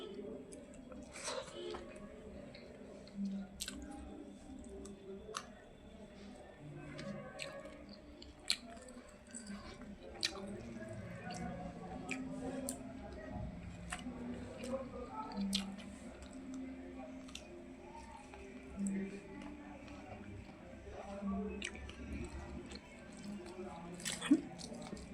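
Someone eats very hot chili with rice, chewing softly and wetly close to the microphone, with occasional small crunches and squishy bites spread over the stretch, faint and intermittent, with some quiet talking at times.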